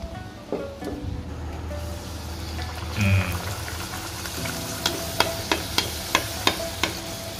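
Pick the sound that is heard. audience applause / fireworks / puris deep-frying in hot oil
puris deep-frying in hot oil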